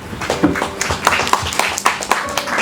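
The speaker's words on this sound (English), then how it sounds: "Guys, your clapping sounds so dead, guys" Graduation ceremony audience clapping, a thin, uneven scatter of hand claps from a modest crowd, fairly close, with a few louder claps popping out and no real swell.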